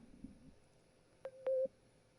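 A Skype call connecting tone plays: a couple of short electronic beeps followed by a sustained chime-like tone, brief and fairly clear against a quiet background with no voices.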